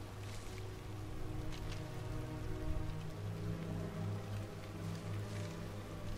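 Steady rain in the video game The Order: 1886, a moderate continuous patter of raindrops on surfaces over a low, droning hum, with no voices.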